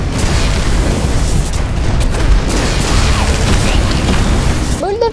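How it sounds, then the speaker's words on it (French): A fireball spell in the video game Magicka erupts into a dense, sustained roar of explosive bursts and crackling blasts, loud and continuous for several seconds, ending with a short tonal flourish. "Boule de feu."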